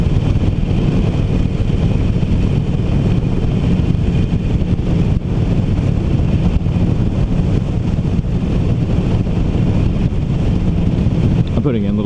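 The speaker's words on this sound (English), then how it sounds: "I'm putting in little sections of me just being quiet so you can just enjoy the engine sound." A 2019 Harley-Davidson Iron 1200 motorcycle engine runs steadily while riding, a continuous low rumble mixed with heavy wind buffeting at the microphone, loud and unbroken for the whole stretch.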